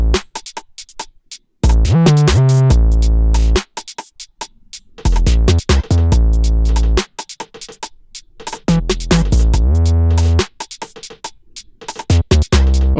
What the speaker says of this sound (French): on va aller mixer la 808 là. Un petit décapitator.